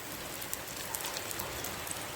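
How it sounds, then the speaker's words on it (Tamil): Steady rain falls throughout, forming an even broadband hiss with scattered small drop ticks and no voices, heard during an unexpected downpour in Jaffna. "நல்ல மழை பெய்யுது."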